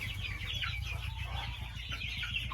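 Chickens and chicks cluck and peep together without a break, close by in a coop with litter on the floor, with no talking.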